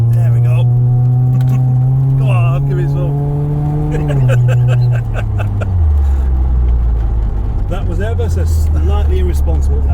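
A Honda Prelude engine accelerates hard on a road test drive, its rising drone climbing through several gear changes, with voices talking loudly over it inside the cabin.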